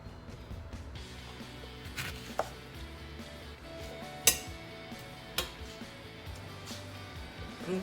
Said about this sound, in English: cut all the lemons into 2